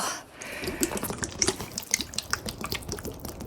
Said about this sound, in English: So I'm gonna go ahead and open this up and just pour that right in there.